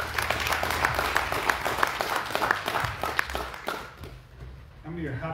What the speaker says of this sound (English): Our praise and worship team, hand clap.